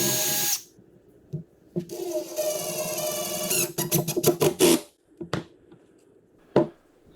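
Screws driven into wooden squares on table legs with a cordless drill, a few short whirring bursts with pauses between them, close and fairly loud in a workshop.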